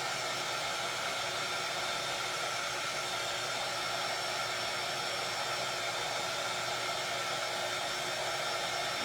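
A blow dryer runs steadily to heat and dry Mod Podge on a Santa decor panel, a loud close constant whooshing whine without interruption or voices.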